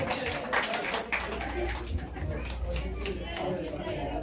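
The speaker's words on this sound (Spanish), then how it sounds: "Fuerte las palmas para el señor Richard, por favor" Crowd clapping and applauding at a baptism party, steady dense applause from an audience filling the room, with voices talking over it.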